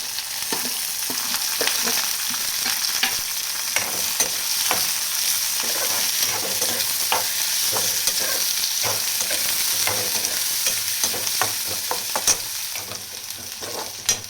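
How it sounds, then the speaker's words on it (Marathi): Onion with curry leaves fries in a pan while being browned for a matki rassa, a steady close sizzle with occasional stirring clicks and scrapes, no talking. "कांदा चांगला लाल भाजू द्यायचा"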